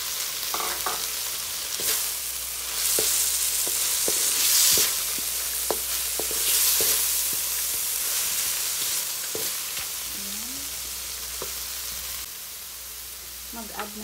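Carrot being stir-fried in a pan for sotanghon, with a steady close sizzle broken by repeated sharp spatula clicks and scrapes against the pan.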